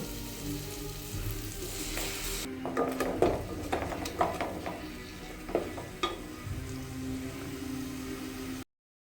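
Ground masala paste for a fish curry sizzles in a pan, while intermittent stirring and spoon scrapes rise over a steady frying hiss at close range.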